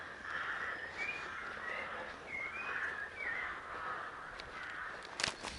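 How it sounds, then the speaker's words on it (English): Crows caw in a quiet churchyard, a few hoarse calls spaced over several seconds at middle distance, with faint outdoor ambience and a brief rustle or knock near the end. "Sound of crows."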